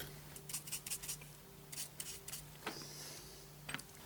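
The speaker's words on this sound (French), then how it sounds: "un petit peu de travail à la lime" A small file rasps lightly on a 1:35 scale model house, quick scratchy strokes in short clusters, faint and close with pauses between passes.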